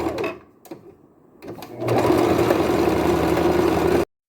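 Sewing machine stitching patchwork seams on a croptop, a few short hesitant bursts followed by a steady, loud, continuous whirring run that stops abruptly near the end.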